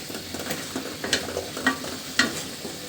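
A spoon scrapes and clatters through fish curry with bottle gourd in a sizzling pan, giving a few irregular stirring knocks over a soft frying hiss.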